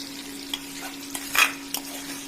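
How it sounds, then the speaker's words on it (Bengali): A marinated stomach mixed with ginger, onion, garlic and tomato fries in a wok, a quiet steady sizzle broken by a few sharp spatula scrapes and one louder burst midway, with a faint hum underneath. "কড়াইতে দিয়ে ফ্রাই করব"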